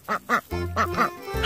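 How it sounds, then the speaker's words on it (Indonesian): A duck quacks in a series of loud, close nasal calls, two quick quacks followed by a longer run of several more with a brief pause between them. "di sini ada hewan bebek"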